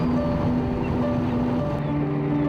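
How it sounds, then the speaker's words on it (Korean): Fishing boats returning into Millak harbour in Busan in late autumn, a steady engine drone with tonal hum and wind noise, close and constant with no talk. "새벽 일찍 조업을 나갔던 배들이 하나둘 입항합니다."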